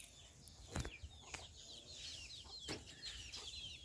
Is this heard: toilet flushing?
no